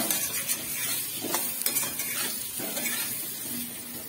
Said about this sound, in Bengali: এতে আমি 1 প্লেটে নুন আর 1 প্লেটে লঙ্কার গুঁড়ো দিয়ে নেড়ে